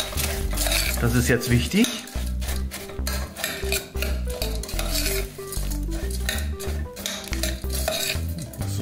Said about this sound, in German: jetzt lasse ich die Brösel in die weiche Butter reinbröseln. Jetzt mische ich das Ganze durch.